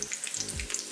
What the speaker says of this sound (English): So I'm gonna add these onions in. You wanna hear that sizzle.